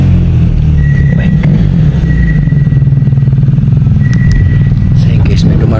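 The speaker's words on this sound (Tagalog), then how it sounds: "may dumarating na sasakyan guys. Motor." A motorcycle comes through the echoing Kaybiang Tunnel, its engine giving a loud, rapid pulsing rumble that fills the space, while people talk over the noise.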